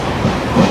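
A Khopoli fast local train runs between Mumbai stations toward Dadar, making a brief, steady, close rumble of wheels on the track with no speech.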